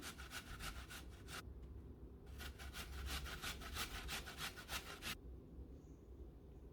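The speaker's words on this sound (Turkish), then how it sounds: "Öncelikle 3 tane elmayı rendenin ince tarafıyla rendeleyelim." Apples grated on the fine side of a kitchen grater, quick scratchy rhythmic strokes in two bursts with a brief pause between, fairly soft and close, then quiet.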